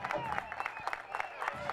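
Football crowd applauding as a player leaves the pitch during a substitution, a sustained spread-out clapping in the stands beneath an excited commentator talking over it.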